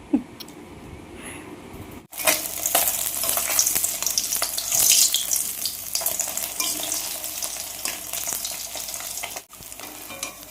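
Fish frying in a pan at home, a loud close sizzle with stirring and spatula scrapes after a quieter start, continuing steadily until a brief cut near the end.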